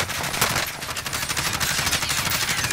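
Rapid video game gunfire directed at the player, a dense burst of automatic shots crackling close and loud throughout with no talking.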